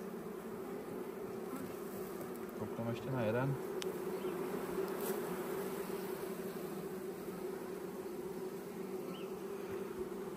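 Honeybees buzz softly and continuously around an open hive during an April inspection outdoors in the sun, with a brief louder hum near three seconds and a person speaking quietly over it.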